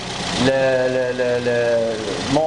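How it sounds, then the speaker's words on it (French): A car engine runs steadily with a humming, tonal drone that rises slightly in revs toward 2000-2500 rpm, close by, while jump-starting a car. "la voiture est démarrée"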